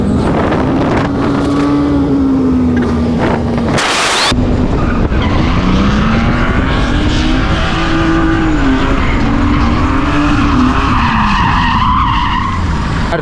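A car on newly changed tires and freshly fitted rims skids hard, its engine droning loud and close with a wavering pitch while tire squeal and wind buffeting fill the whole stretch; nobody speaks.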